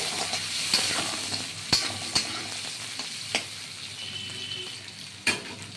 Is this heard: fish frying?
yes